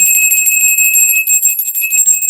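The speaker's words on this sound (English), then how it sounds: "This is also the solar plexus bell." A solar plexus bell rung to clear the air of negative spiritual energy gives a bright, sustained ring with steady high overtones, loud and close, sounding on its own with no talk.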